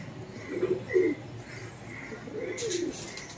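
Pigeons of a red-marked breed kept in a loft, cooing in soft repeated low throaty calls, several in a row, fairly close and gentle, with no talk.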